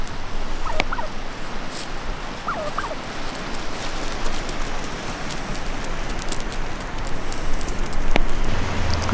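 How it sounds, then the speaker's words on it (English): Wild turkeys gobbling in Zion National Park, a few brief distant calls over a constant wash of outdoor background noise. "Look out, turkeys!"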